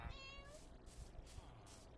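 A Minecraft Bedrock Edition cat meowing, a short faint mew followed by softer breathy cat sounds, quiet and alone.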